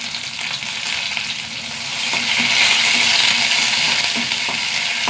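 Mustard seeds, shallots, chillies and curry leaves fry in hot oil for a mutton curry, giving a dense, steady sizzle that swells louder partway through, with faint crackles and no talking.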